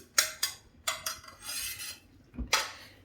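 A spoon stirs banana and flattened-rice payasam with coconut pieces, cashews and raisins in a metal pot, giving close, sharp clinks and scraping strokes in uneven bursts with short pauses between them, no talk.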